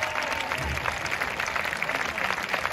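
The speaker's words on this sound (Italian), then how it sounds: "Gli fate un grande applauso." Applause from a concert audience in Florence, a steady dense patter of many hands clapping that holds at an even level throughout.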